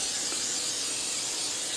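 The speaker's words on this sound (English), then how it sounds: "spray this with that salad oil" Salad oil sprays steadily from a can onto potatoes set for broiling, one continuous close hiss with no pauses.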